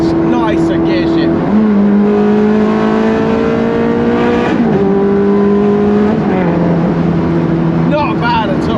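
A Ferrari Challenge Stradale with a single-clutch gearbox accelerates hard from close by, its engine note climbing through several rising pulls, each broken by a quick gear-shift dip, with a final shift near the end.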